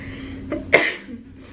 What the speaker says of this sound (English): I felt the sneeze coming